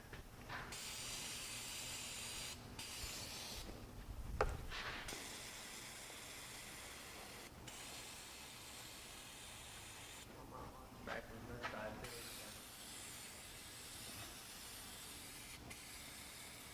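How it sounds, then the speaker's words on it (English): Brake cleaner sprays in long steady hisses over a power steering pump on a 2006 Toyota Tacoma, broken by short pauses and a few soft knocks in a quiet garage. "I'm going to go ahead and just brake clean to get some of that residue off of there."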